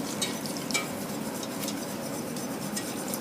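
A spoon stirs sauce in a pan, clinking and scraping against the metal in an irregular rhythm over a faint low simmer, close up and alone.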